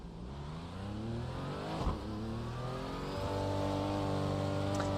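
A GT4 race car's engine revs hard at Daytona in a racing video game, with strong harmonic bands climbing steadily as it accelerates and a brief gear-change blip midway, loud and continuous throughout.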